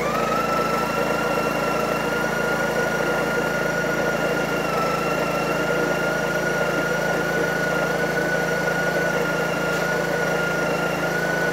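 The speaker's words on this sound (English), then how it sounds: "Start by grinding coffee." Breville Oracle Touch espresso machine grinding coffee beans, a steady loud whirring drone with a constant high whine that runs unbroken for the whole stretch, with no voices.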